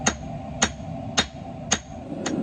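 Scrap 1/2-inch round bar is hammered flat at the anvil for forge welding, with four evenly spaced, loud ringing hammer blows and a fifth softer strike over a low propane forge roar.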